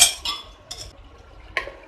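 Spoon lightly stirring ghee into cooked tomato rice inside a pressure cooker, with a few soft metallic clinks and scrapes against the pot, close up.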